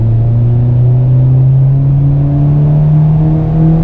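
A 2.2 VTEC engine in a fourth-generation Honda Prelude revs loudly and smoothly, its pitch climbing gradually and steadily over several seconds.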